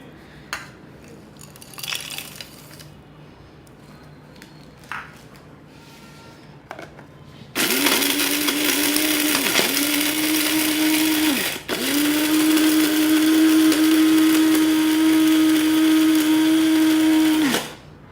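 An electric grinder whirs loudly for about ten seconds, grinding roasted garam masala spices with broken nutmeg pieces, with a brief dip partway through, after some quieter clinks and handling noises.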